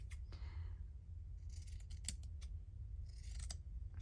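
Scissors cutting a strip of material for a stitchery journal page, a few crisp close snips in separate bursts over a low steady background hum.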